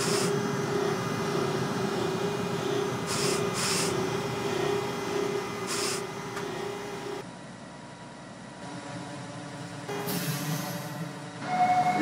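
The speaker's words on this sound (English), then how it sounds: "This is a Brighton Beach bound Q local train" A New York MTA Q local subway train in the OpenBVE simulator runs toward Brighton Beach, with a steady, loud rolling rumble and whine that shifts in tone partway through, plus a few brief hissing bursts.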